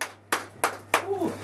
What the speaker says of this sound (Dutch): Mag ik een applaus voor Anstijn?